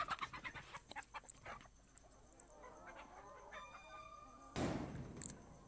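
Layer chickens at a 1000-bird chicken farm clucking in quick bursts, with a rooster crowing and a brief loud rustle near the end, close and fairly faint overall.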